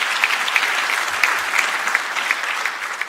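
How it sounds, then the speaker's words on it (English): Conference audience at a national space conference opening session gives a sustained, even round of applause, many hands clapping at moderate volume with no voices on top. "Another round of applause for Dr. Maseru Mule."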